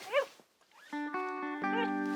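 Pet dog Mossy whimpering for a treat at home, giving a short high yelp and then thin, sustained whiny whines, faint and close.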